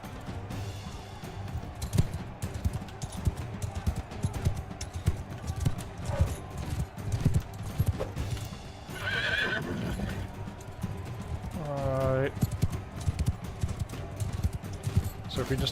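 Horse in the video game Mount & Blade II Bannerlord: fast, loud clip-clop hoofbeats galloping throughout, with two distinct whinnying neighs, under battle noise and occasional voices.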